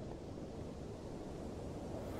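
Steady wind roars outdoors by a building's fire exit, a dense, continuous rush close to the microphone with no breaks.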